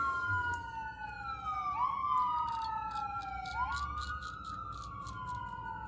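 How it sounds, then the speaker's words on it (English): Two wailing fire truck sirens rise and fall together, overlapping at a moderate distance over a low rumble of traffic, with no voices. "The reason why you guys hear so many sirens in my videos all the time"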